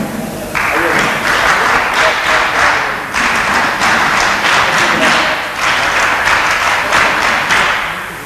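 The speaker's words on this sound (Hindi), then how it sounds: "जोरदार तालियां" Loud, sustained applause from a conference audience honouring an industrialist at a Khargone forum on Madhya Pradesh's future, dense clapping that surges in waves after a brief quiet start and rolls on to the end.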